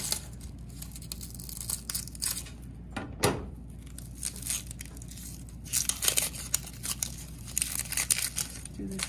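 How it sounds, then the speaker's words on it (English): A knife cutting the ends off an onion on a board while making Coney Island hot dog sauce, a few crisp crunchy slices and scrapes, quiet and close, with a person speaking throughout. "Now, to cut an onion, I like to take the 2 ends off."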